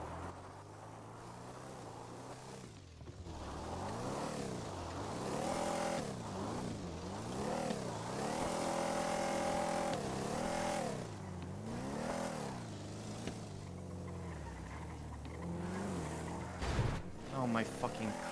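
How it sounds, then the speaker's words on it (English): A car engine in the GTA-based NoPixel roleplay game revs up and down repeatedly in rising and falling sweeps, loud and close, with a player talking over it at times. "this car is so bad. It's like I'm on ice skates"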